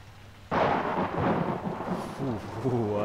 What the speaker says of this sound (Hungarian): A rohadt villámlás.